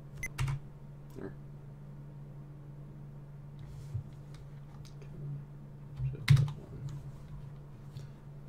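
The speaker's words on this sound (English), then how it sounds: "I know this keyboard is very loud" Typing on a loud mechanical computer keyboard, scattered sharp key clacks with a few louder bursts at the start and near the end over a steady low electrical hum.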